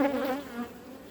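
Honey bees buzz steadily around a swarm hive, a close, continuous drone with a slight wavering pitch and no voices.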